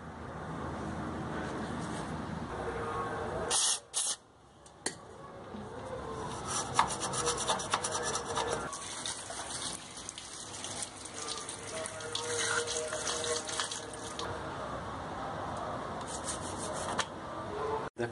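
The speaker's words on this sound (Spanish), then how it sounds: "O incluso agua pueden ponerle para limpiar con una brocha" A brush scrubbing a mud-caked brake drum nut with water gives steady close rubbing and rasping strokes for about eighteen seconds, with a brief pause early on.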